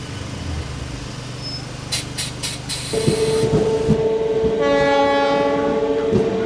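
A 16-coach MEMU passenger train rolls along in Kerala, its rumble and wheel clatter heard from on board, then the horn blows a loud, sustained blast that carries on over the running noise.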